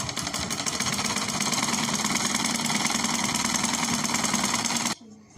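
A sewing machine runs steadily while stitching a sleeve onto a stylish top, a dense continuous mechanical whir that stops abruptly near the end, leaving near silence.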